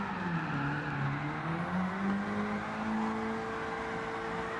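A race car drifts in Gran Turismo 7 with a sustained engine whine whose pitch slides up and down, joined by tire screech, heard alone at a moderate, steady level.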